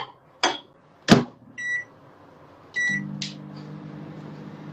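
A microwave oven runs in a burst to melt chocolate: a low steady hum starting partway through, with door clunks and a few electronic beeps before it, close and moderately loud, no voices.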